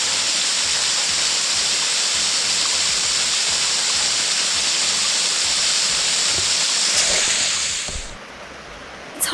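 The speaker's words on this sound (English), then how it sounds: "this waterfall went all the way up to the top of the hill" Tioga Falls, a tall waterfall tumbling down a hillside on a nature trail, roars as a steady, dense rush of water that holds constant before abruptly fading near the end.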